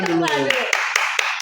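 A small group claps to welcome a guest onto a talk show, a few brief, close claps breaking in as a speaking voice trails off.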